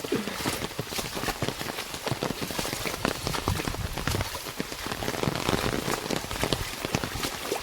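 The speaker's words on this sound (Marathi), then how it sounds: "आणखी बघा पाऊस पडला भरपूर" Heavy monsoon rain pours down in the Konkan countryside, a dense, continuous hiss of drops pattering on surfaces close by, with no pause and almost no voices.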